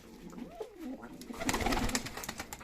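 Black Turkish play pigeons coo nearby, a low rolling call that swells into denser rustling and fluttering toward the end.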